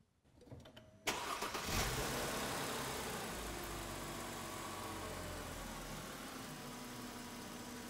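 A car or truck engine cranks and catches about one second in, then settles into a steady idle that runs alone for the rest of the stretch. The setting is a charging-system test with a meter clipped to the negative battery terminal.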